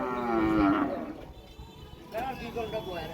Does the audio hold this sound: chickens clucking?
no